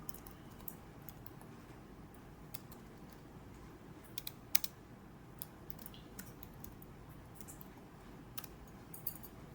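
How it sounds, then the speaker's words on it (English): Quiet typing of a full name on a computer keyboard, a run of soft scattered key clicks over faint background hiss, with no talk. "Type your full name, Tina Sharma."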